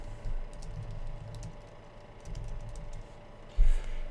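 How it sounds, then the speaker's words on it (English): Someone types on a computer keyboard, sending soft, scattered keystroke clicks close by in a quiet room, with a slightly louder cluster of taps near the end. "I typically will copy it and just type it in my Namecheap browser."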